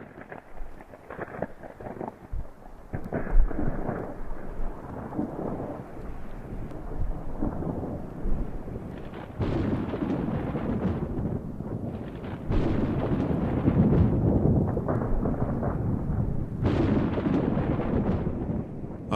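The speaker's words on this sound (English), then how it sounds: "a massive dry thunderstorm rolled over northwestern Montana" Dry thunderstorm over northwestern Montana, with deep rolling thunder and gusty wind roaring continuously for nearly twenty seconds, swelling in waves, loud and close.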